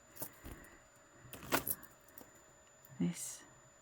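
A metal bangle clinking and jangling as it is handled, several sharp close metallic rattles and taps scattered across a quiet background.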